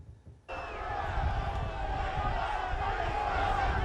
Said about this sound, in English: An angry crowd, including both relatives of those killed during the coup and some of those wounded during the violence, chanted demands for the return of the death penalty